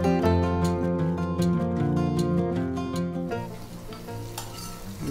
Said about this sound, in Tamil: எண்ணெய் காஞ்செடுத்து கடுகு, கொஞ்சம் கடலைப்பருப்பு, கொஞ்சம் உளுத்தம் பருப்பு, பச்சை மிளகா, கருவேப்பிலை, அப்புறம் பெருங்காயப்பொடி